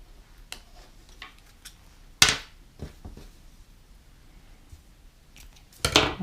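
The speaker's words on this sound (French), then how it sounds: "Il me reste à couper les fils." Scissors snip through knitting yarn in a quiet room, with two sharp, close cuts standing out among a few faint clicks and handling noises; no speech.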